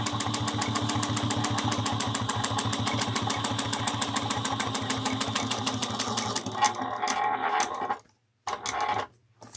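A sewing machine stitching backwards a short way for reinforcement, a fast, even mechanical chatter close by that runs steadily, then stutters and stops, with brief pauses and a restart near the end.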